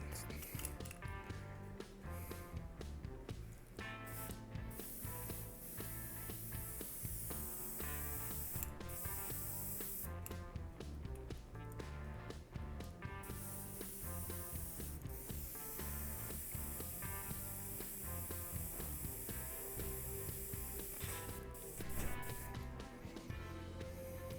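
An airbrush sprays cleaner in a steady hissing stream, broken by rapid clicks and brief pauses as the trigger is worked, close and fairly quiet.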